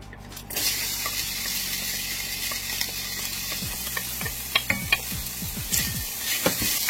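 Onion sautéing in a little cooking oil in a pan gives a soft, steady sizzle, with spatula scrapes and stirring clicks breaking through in quick bursts toward the end.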